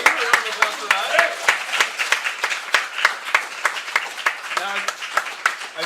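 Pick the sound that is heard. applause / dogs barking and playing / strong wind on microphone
applause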